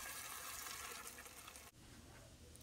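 Ground coconut paste being poured into a prawn gravy, a soft wet gushing pour that stops abruptly partway through, followed by quieter liquid sounds, close and low in level.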